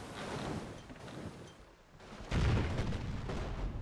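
A bombardment attack in Civilization V: a faint rumble of distant gunfire gives way to a louder burst of booming artillery that rolls on at a moderate level.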